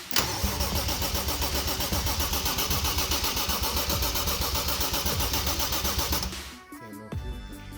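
Car engine cranking with a rapid rhythmic starter chatter for about six seconds, then catching and firing into a rough idle, close and loud with no talking, during an engine swap.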